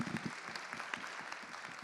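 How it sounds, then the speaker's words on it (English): Audience at a neurosurgery symposium giving a brief, modest round of applause, soft and somewhat distant, a fairly even patter of many hands with no talk over it. "Please give him a little applause."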